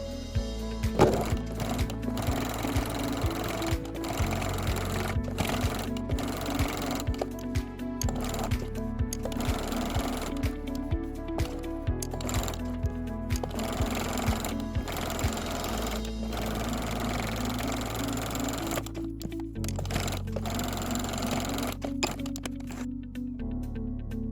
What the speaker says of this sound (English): Next, top stitch around the entire main case body using an 1/8 inch seam allowance.